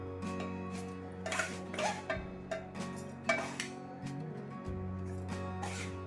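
Drained barnyard millet is tipped into a mixer grinder jar. Close, soft scraping and grainy rustles come in short bursts, with a light clink, over quiet background music.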